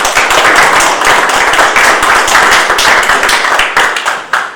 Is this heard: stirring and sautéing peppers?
no